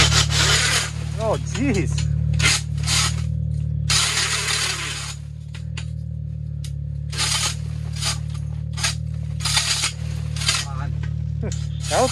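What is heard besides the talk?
DeWalt drill boring a hole through lake ice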